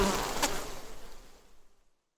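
Buzzing bees as an audiobook sound effect, a dense insect drone that starts full and close, then thins and fades out to silence within about two seconds.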